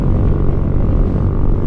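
Kymco Xciting VS 400 maxi-scooter engine and exhaust cruising at around 100 kph, a loud, steady low drone blended with rushing wind, no speech.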